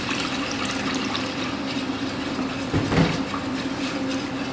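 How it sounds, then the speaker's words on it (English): Milk poured into a pan of sauce for beef lasagne, a steady liquid pour with a faint splashing burst near the end, close by and without talk. "I'm going to go in with quite a lot of milk to start with."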